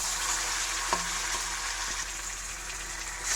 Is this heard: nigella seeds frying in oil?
yes